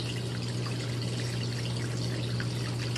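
Water pours and sloshes steadily inside a Giantex 1.34 cu ft portable washing machine during its rinse and drain cycle, with a constant low pump hum beneath the close, continuous trickling flow.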